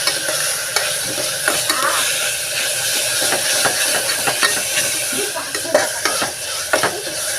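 Chicken curry masala being stirred and fried in a pan, a steady sizzle and hiss with frequent scraping spoon strokes and light pot clatter throughout, close and fairly loud with no talking.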